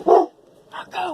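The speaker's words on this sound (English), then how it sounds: "sorry about the dog." A dog barks twice indoors, sharp and close, the two barks separated by a brief quiet gap.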